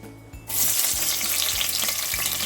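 A loud, steady sizzle of onions frying in hot oil starts abruptly and continues, with occasional soft clunks beneath it.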